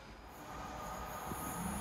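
A Class 66 freight train hauling new Toyota Yaris cars rolls past, a faint continuous rail rumble with thin wheel squeal, heard from a distance.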